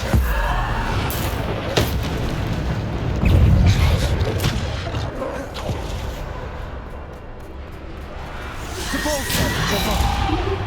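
Bombarda blasting spells from Hogwarts Legacy on Xbox Series X, heavy booming impacts and whooshes in a busy, continuous stream of combat noise, with a peak of low rumble a few seconds in and more bursts toward the end.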